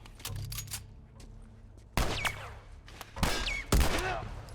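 Gunfire from The Last of Us Part 1 game combat, three sharp loud shots spaced about a second or more apart after a quieter stretch, each followed by a ringing tail.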